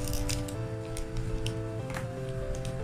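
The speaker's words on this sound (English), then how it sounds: "You know how to use scissors now." A child snips with a pair of scissors at close range, a few quick cutting clicks heard over steady indoor background hum and a faint tonal drone.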